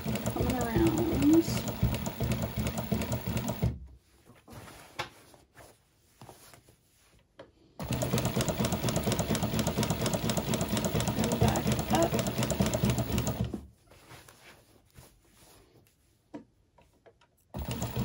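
Singer 114w103 industrial sewing machine stitching a decorative line, running in two long steady bursts separated by pauses with small handling noises.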